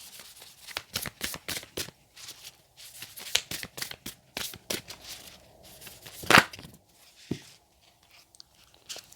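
An oracle deck, Believe in Your Own Magic, shuffled close by in bursts of quick riffling card slaps that run on and off, with one louder snap partway through.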